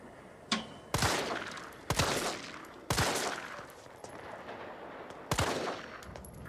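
Resident Evil 3 Remake gunfire: five loud, sharp shots spaced about a second apart, each followed by a short ringing tail over quiet background.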